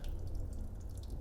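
Water-colored liquid drips from a drained part of a Kei truck being chopped and shortened, quiet close drips over a low rumbling background.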